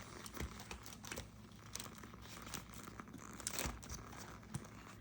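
Paper cash envelopes are handled with soft crinkles, rustles and light taps in irregular bursts, close but faint, with no voices.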